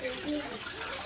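Water pours briefly and softly from a pitcher into a cooking pot, a faint liquid trickle with quiet speech-like sounds underneath.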